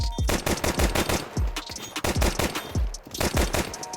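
Rapid automatic gunfire in a shooting video game, sharp close shots fired in quick bursts with brief gaps, loud and crisp against a quiet background.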